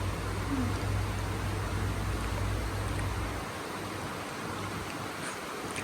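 Steady rain hisses evenly across a rural home scene, loud at first with a low hum beneath that drops away midway, leaving the softer patter alone.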